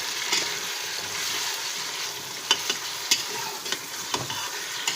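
Ingredients for a spinach and bone-in beef curry sizzle steadily in a pan, broken by several sharp scraping taps of a spoon as they are stirred.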